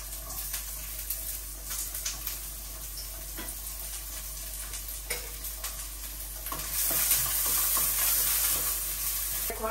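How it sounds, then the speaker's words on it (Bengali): Chopped onion sizzles in hot oil in a pan, a steady close frying crackle that grows louder partway through, with occasional stirring scrapes. "তেল দিয়ে দিলাম, আর এখন দিয়ে দিলাম পেঁয়াজ কুচি"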